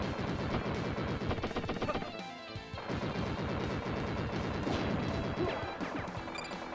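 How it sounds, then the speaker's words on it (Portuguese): Rapid laser gun fire in the shooting game Wild Guns Reloaded, dense repeated zapping blasts mixed with game explosions and effects, loud and continuous with a brief lull midway. "Essa arma de laser é nova"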